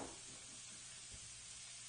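Olive oil in a frying pan giving off a steady, soft sizzle with a continuous hiss and faint crackles throughout, heard alone without talking.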